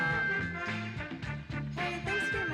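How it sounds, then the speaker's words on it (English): An instrumental breakdown from a funk song, with dense continuous music, steady bass and sustained tones, playing loud and unbroken throughout without any voices. "Here's your instrumental breakdown."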